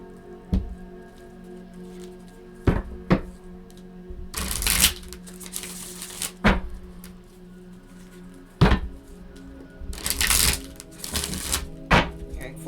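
A deck of cards is riffle-shuffled several times, each shuffle a quick fluttering burst, with softer taps and handling noises between them.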